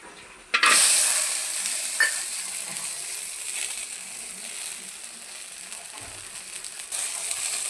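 Okra hitting a hot pan with a sudden loud burst of sizzling, then a steady frying hiss with occasional stirring scrapes that gradually eases, close by and with no talking.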